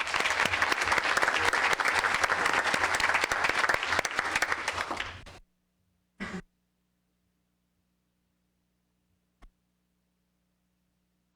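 Audience at a school board meeting applauds award-winning student honorees in a sustained burst of clapping that ends abruptly, followed by a few isolated coughs and throat clearing in a quiet room.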